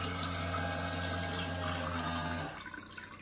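A Microphor LF-220 toilet on a 1995 Prevost coach runs its flush cycle: a steady humming pump with rushing water, then the motor cuts off and water swirls and drains briefly.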